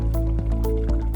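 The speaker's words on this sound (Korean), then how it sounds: "보글보글 끓으면 홀토마토 통조림을 넣을게요." Canned whole tomatoes dropping into a pot of simmering chili con carne, wet squishing plops and liquid splashes with a couple of distinct thuds over a steady bubbling background, close and fairly loud.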